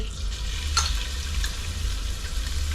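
Ground beef sizzles in a frying pan for a Georgian bolognese, a steady close hiss over a low hum, with a brief scrape or two of stirring and no voices.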